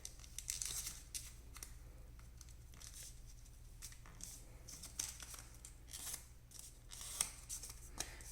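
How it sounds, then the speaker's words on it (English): Paper being folded and creased for an origami ninja star, with soft crinkles and sharp little crisp presses, close and quiet over a low steady hum. "Hold it in place and then fold."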